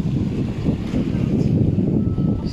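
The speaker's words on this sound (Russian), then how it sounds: "Да что ж такое, ветер дует так." Strong wind buffets the microphone at a bay beach, a constant loud rumbling roar that never lets up.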